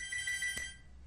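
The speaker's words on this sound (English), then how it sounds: "Whose phone is ringing? That is my phone." A mobile phone rings with a bright, electronic repeating tone that sounds for under a second before stopping, fairly faint with no talk over it.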